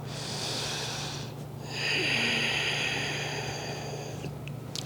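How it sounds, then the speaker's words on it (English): A deep audible breath at the close of a beginner yoga practice, a drawn-out airy inhale and exhale heard close over a low steady hum in a quiet room. "take a breath"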